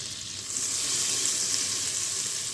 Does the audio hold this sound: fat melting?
yes